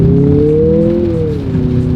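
2024 Mazda CX-50 pulling away hard in sport driving mode on a wet road, heard from inside as a loud engine drone rising in pitch, dipping briefly at a shift, then climbing again.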